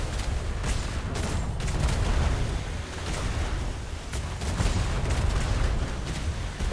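Ship cannons firing broadside at a Spanish galleon in a naval battle game, a dense run of rumbling booms and blasts rolling one after another over continuous low battle noise.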